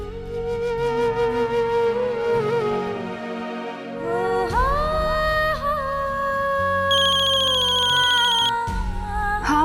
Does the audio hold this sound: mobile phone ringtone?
yes